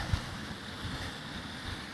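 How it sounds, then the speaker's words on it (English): A cascade of water crashes beside stone steps cut into rock in a park, a steady broadband roar of rushing water with gusty wind noise, continuous and fairly loud throughout, no talking. "this cascade of water that is crashing right beside you the whole way up"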